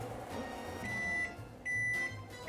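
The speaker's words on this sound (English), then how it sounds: "I'm gonna hit this in the microwave for probably 30 seconds" A microwave oven hums low and steady while heating pork marinade, with two thin high electronic tones sounding briefly partway through.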